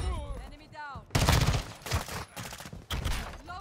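X13 SMG gunfire in Modern Warfare 2, rapid bursts of loud clattering shots in a few separate volleys, with speech-like sounds heard before the firing starts.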